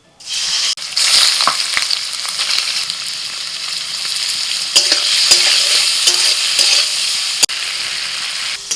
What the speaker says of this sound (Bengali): চিংড়ি মাছ ভেজে নিই